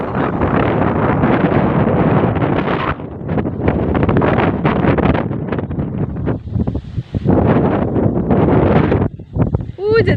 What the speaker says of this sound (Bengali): কি সুন্দর বাতাস, মানে কক্সবাজারে মানে এরকম বাতাস নাই